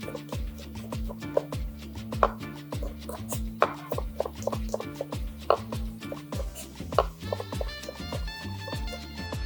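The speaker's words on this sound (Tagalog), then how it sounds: "Saja grande con el colorado cebollón. Saja fino con el ajos." A knife chops onion and garlic on a cutting board in a steady series of close, crisp taps and thuds at an irregular pace over about nine seconds, with no talking.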